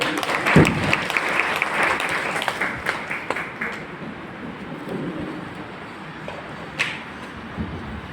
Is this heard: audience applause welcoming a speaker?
yes